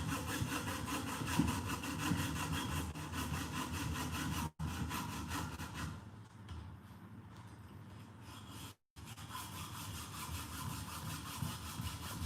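An INGCO power tool cuts through material with a continuous rasping, sawing drone, broken by two brief drops near the middle before the cut resumes, fairly quiet and without talk.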